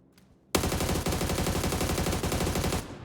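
A sudden, sustained burst of rapid automatic gunfire in PUBG on the Sanhok map erupts after a brief quiet moment, loud and continuous for a few seconds before cutting off.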